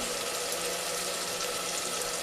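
Meat being washed in a bowl of water with vinegar, a continuous close splashing and running-water wash with no talking.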